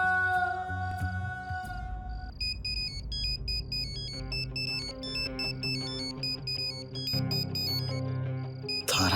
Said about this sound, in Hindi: तारा का फोन हम नहीं उठाएंगे।